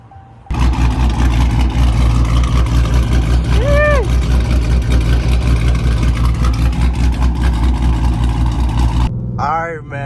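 A Dodge Charger R/T with a newly installed cam idles loudly and close up, its lumpy, choppy rumble pulsing steadily for several seconds before cutting off; a brief voice cuts in near the start and again at the end.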